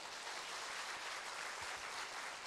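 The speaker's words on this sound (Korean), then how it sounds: "그래서 박수 한번 칩시다" A church congregation claps during a pastor's installation service, a soft, distant, steady patter of many hands filling the room without speech on top.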